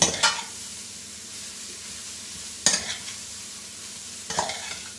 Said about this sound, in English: dig down deep so that you get the cumin seeds mixing in